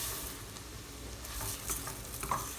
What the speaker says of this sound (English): now I'm going to add 1 cup of arborio rice